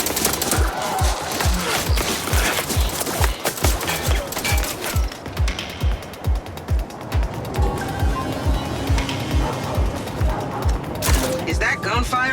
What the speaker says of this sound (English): Is that gunfire I'm hearing?